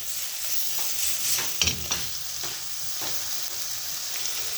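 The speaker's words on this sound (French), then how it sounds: "les oignons qui sont en train de caraméliser un peu" Onions and garlic softening and caramelizing in olive oil in a pan, a steady close sizzle with a few brief stirring clatters partway through.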